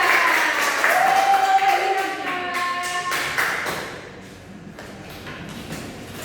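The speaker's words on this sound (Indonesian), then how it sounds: "tepuk tangan buat kamu berdua" Students clapping in a classroom during a microteaching lesson, a burst of applause that fades over several seconds, mixed with scattered taps and thumps and some voices.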